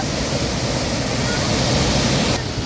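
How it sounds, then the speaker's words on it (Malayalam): Water from the opened shutter of Kallarkutty dam roars out in a loud, continuous rush that stays unbroken throughout. "ഇവിടെ ഷട്ടർ തുറന്ന് വിട്ടേക്കാണ് ഭയങ്കരമായിട്ട് വെള്ളം പോകുന്നുണ്ട്"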